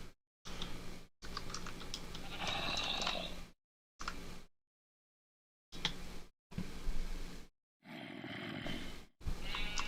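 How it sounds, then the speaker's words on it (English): Bursts of close typing on a computer keyboard, fast clattering keystrokes in several runs separated by short silences. "I'm good at typing."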